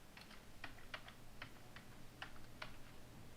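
Soft, quiet keystrokes on a computer keyboard tap in an irregular rhythm, a dozen or so clicks close by with no talking.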